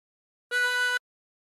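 Drawing on hole 3, a harmonica sustains one even, reedy note for about half a second, played up close and alone against silence within the Yankee Doodle tune.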